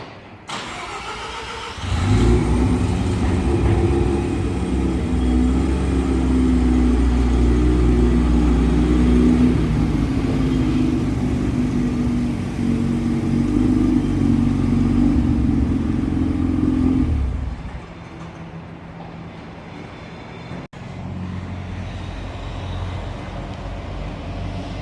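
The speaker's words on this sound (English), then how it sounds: "RX-7 turbo." A 1993 Mazda RX-7 turbo engine starts up and runs at a steady, strong idle with some revving for about fifteen seconds, close and loud, then cuts off to quiet room noise.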